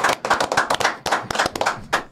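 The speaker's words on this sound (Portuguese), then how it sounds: "Uma salva de palmas, isso aí, nosso grupo." A small group, including a kids' sports team, bursts into brief, brisk applause at a sports physiotherapy presentation, a close cluster of overlapping claps with short pauses between bursts.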